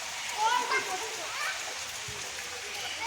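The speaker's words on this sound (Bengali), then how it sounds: "এদিকে সব বৃষ্টি পড়ছে দেখো" Steady rain falling outdoors near a garden of ash gourd vines, a soft continuous hiss at moderate level with a faint voice briefly audible near the start.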